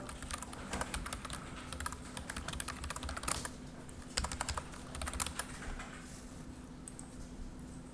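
Fingers tapping on a computer keyboard in a classroom, a quick, uneven clatter of keystrokes in short bursts over a low steady hum, with no talking.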